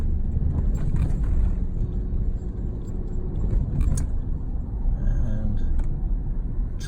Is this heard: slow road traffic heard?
yes